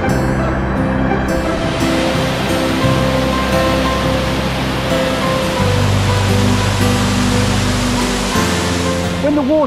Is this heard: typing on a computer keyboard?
no